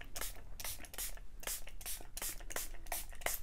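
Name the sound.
spraying paint on a painting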